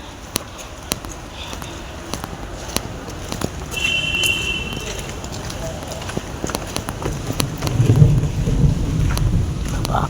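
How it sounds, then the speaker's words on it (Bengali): Thunder rumbles loudly during a storm, building to a deep roll near the end over steady falling rain, with a voice talking in the background. "আকাশ ডাকছে খুব জোরে।"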